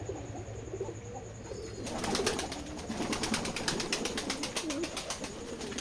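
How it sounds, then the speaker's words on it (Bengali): Pouter pigeons coo softly at a pigeon farm, with low murmuring calls over a steady background hum and some rustling or flapping. "ওই যে দেখুন পোটার কবুতর।"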